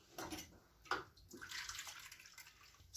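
Water is poured from a cup into a bowl while making Syrian mushabbak dough. There are a few short, splashy pours with brief pauses between them, quiet and close, with no talking.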